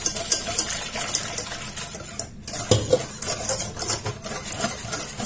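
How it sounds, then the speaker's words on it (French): Spoon stirring lemon juice and milk together in a bowl for a lemon cake cream, a steady close scraping and clinking of utensil against the container with brief pauses, no voices. "Je mélange bien et je vais mettre tout ça sur le feu"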